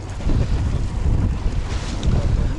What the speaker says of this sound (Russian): Волна страшная, ребята,